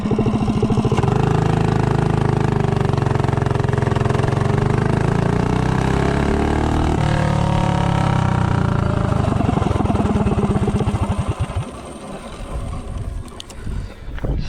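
A Predator 212 small engine with a VM22 carburetor and standard-length intake revs hard and loud from a standstill to 30, its droning pitch climbing steadily, then it eases off and sputters near the end.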